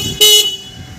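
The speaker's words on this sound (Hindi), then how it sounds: "हॉर्न बज रहा है" A motorcycle horn on a bike with freshly repaired wiring gives one loud, steady toot of about a quarter second, close by, with quiet background before and after.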